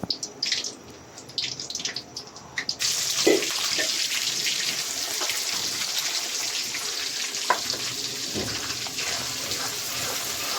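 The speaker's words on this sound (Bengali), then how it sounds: "এই তো মুরগির মাংস এখানে বসানো হচ্ছে।" Steady sizzling of chicken meat frying in a pan, loud and close, after a few seconds of scattered clinks and handling sounds.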